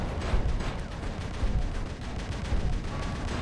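Cannon fire in the robot combat video game War Robots booms in dense, rapid, continuous bursts, loud and close for the whole stretch with no pauses.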